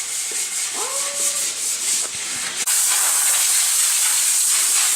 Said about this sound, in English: Quick compressor spray down to get the dust off prior to the actual applying of the stain